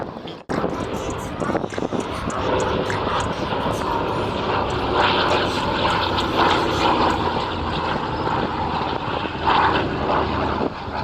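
Deep, steady drone of WW2 C-47 transport aircraft propeller engines during a flying display, loud and continuous, with a voice speaking faintly beneath the roar.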